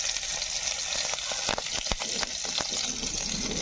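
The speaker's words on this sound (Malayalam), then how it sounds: "ഇതിലേക്ക് ഞാൻ ഒരു മൂന്ന് പച്ചമുളക് കട്ട് ചെയ്ത് ഇട്ട് കൊടുക്കണം" Chopped green chillies sizzle in a hot pan, a bright, steady crackle close by, with several quick stirring clicks and scrapes in the middle; nobody talks.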